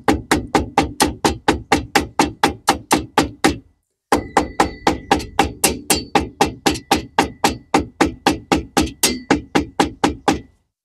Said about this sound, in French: je vous conseille d'y aller assez doucement au marteau, surtout sur la fin, pour pas abîmer le cadre